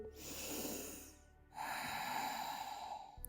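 A deep breath during a relaxing yoga session: a long airy inhale, then a short pause and a second sustained breathy exhale, close and clear with no talking.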